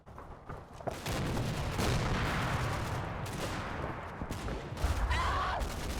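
Gunfire in a World War II Normandy combat game crackles in bursts of shots and booms over rumbling ambience, moderately loud, with no one speaking.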